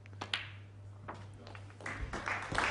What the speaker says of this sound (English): that applause from this knowledgeable Crucible audience